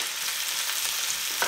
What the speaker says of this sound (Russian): Теперь нам надо обжарить лук.